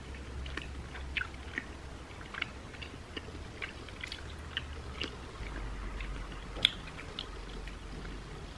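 Someone chews a soft, chewy cake filled with corn, producing close, quiet, irregular mouth clicks and squelches in a steady rhythm with no talking.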